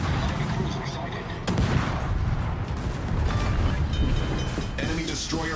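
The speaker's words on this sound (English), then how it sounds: "Enemy destroyer blown up." A destroyer blowing up in World of Warships, heavy booming blasts and rumbling gunfire over a dense battle din, with a voice talking in the mix.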